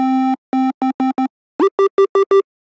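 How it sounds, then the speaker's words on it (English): Simple sine-wave synth beeps with effects, in a hyperpop style: five steady tones at one pitch, a short pause, then five more pitched higher, each a short clean blip like a little phone beep. "it sounds like a little phone beep"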